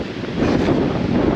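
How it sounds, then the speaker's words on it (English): Strong outdoor wind buffets the microphone at a misty nature park, a loud, continuous low rumble with no pauses and no voices. "Too much wind outside."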